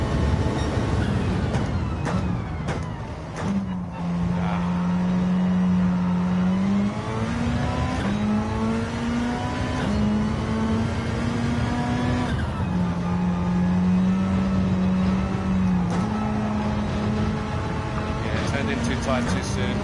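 A Mitsubishi race car engine in Gran Turismo 7's Manufacturers Cup drones and climbs in pitch, dropping with each gear change in a repeating rev-and-shift pattern, while a person talks over it.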